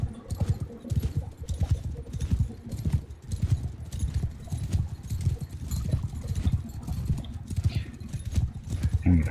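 Cavalry horses galloping in the medieval battle game Mount and Blade II: Bannerlord, dense rapid hoofbeats drumming continuously and close, with a horse whinnying faintly in the mix.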